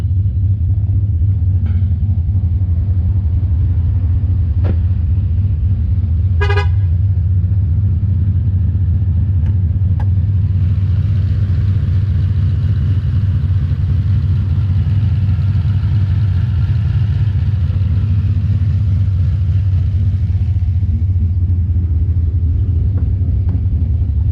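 A supercharged V8 in an HSV VF Maloo ute with about 600 rear-wheel horsepower idles with the bonnet up, a steady loud low rumble throughout with a few faint clicks and hiss above.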